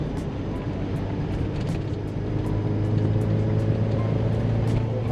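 A modified 1986 Porsche 944 driven on a winding road, its engine droning steadily and holding revs under a loud, continuous wash of road and wind noise from inside the cabin.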